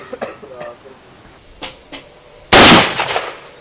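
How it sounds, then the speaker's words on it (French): Gunshots at a shooting practice range, with faint distant reports early on and one loud, close sharp shot near the end, while people talk. "Tu tires trop vite."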